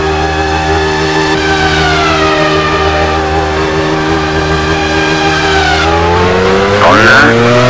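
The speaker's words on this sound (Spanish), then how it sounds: "Honda se dirige a la calle de boxes." A Honda Formula 1 car at the 2008 Turkish Grand Prix heads into the pit lane, its steady high engine whine loud throughout, with a sharp pitch shift near the end.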